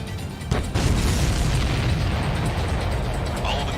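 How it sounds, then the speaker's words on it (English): Missile explosions in the video game Ace Combat 7, a sharp loud boom followed by a sustained rumbling roar of blasts and debris that stays dense and loud throughout. "All of the missiles have been destroyed."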